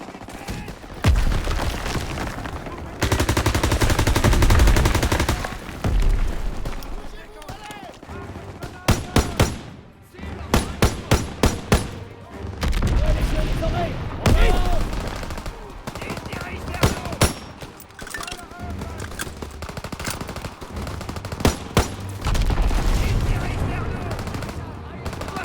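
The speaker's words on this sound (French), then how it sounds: "Les coups de feu! Nos hommes sont pas loin!" Heavy gunfire in Call of Duty: WWII: long bursts of automatic fire and sharp single shots, loud and close, with pauses between volleys and faint voices underneath.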